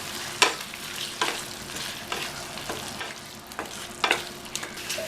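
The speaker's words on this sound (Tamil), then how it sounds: "இந்த பணியாரத்தை இதில் சேர்த்துட்டு நல்லா பரட்டி விடணும்." Paniyaram being stirred into boiling masala in a pan, with a steady bubbling simmer broken by about six sharp, rhythmic scraping stir strokes, close and clear, with no talking.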